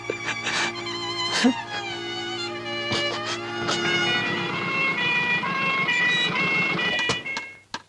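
An ambulance siren sounds in a Tamil film scene, a loud, wavering electronic tone holding for several seconds before fading out, with sharp knocks and bangs at the start.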